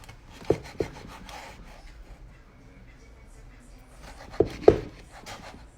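A jumbo knife cuts through a flatbread in two pairs of sharp, close chops against a board, separated by a quiet stretch with faint rubbing.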